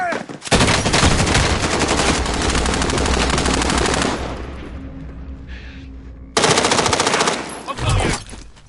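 Loud, rapid automatic gunfire in the Warzone video game on PS5, sustained bursts that stop briefly and then resume in another close, heavy volley.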